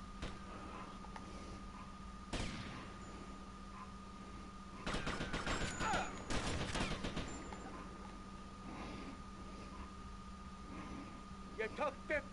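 Gunfire from a gun in GTA: Vice City: a sharp shot, then a dense burst of rapid shots a few seconds later, followed by a few scattered faint cracks over a steady low game hum.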